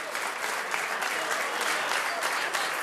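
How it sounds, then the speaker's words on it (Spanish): At a stud farm horse auction, a crowd breaks into continuous, dense applause that stays even and full for nearly three seconds, heard close with a faint murmur of voices beneath. "Un aplauso fuerte para los muchachos"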